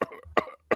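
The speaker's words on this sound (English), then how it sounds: "it was the cough" Three sharp, close coughs come in quick succession, each a short harsh burst with brief silences between.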